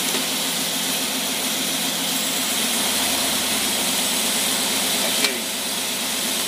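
Six-cylinder marine engine running on a boat, a steady loud droning hum that holds an even pitch throughout, with a brief click near the end.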